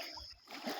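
A fishing line cast into the water at Tarbela Dam in the early morning, a soft brief splash and slosh, faint and close, with no talk over it.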